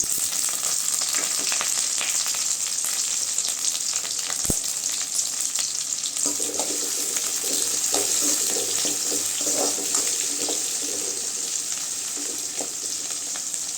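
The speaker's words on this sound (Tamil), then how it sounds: "அடுத்து வெங்காயம் சேர்த்துக்கலாம் கருவேப்பிலை சேர்த்துக்கலாம்" Sliced onions and curry leaves fry in hot oil in a pan for murungaikai varuval, a steady close sizzle with faint stirring scrapes and no talk.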